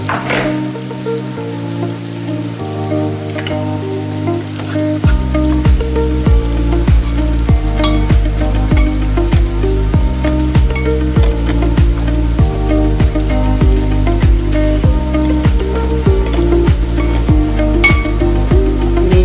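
Ground coconut paste sizzles in a hot pan for elephant yam flower thoran, a loud, continuous frying crackle that swells after a few seconds, with occasional stirring scrapes and no talking.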